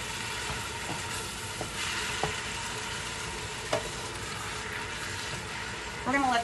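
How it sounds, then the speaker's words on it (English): Meat browning in a pot over high heat for a quick marinara sauce, a steady dense sizzle with occasional stirring scrapes and a brief clatter near the end. "We're gonna let this saute"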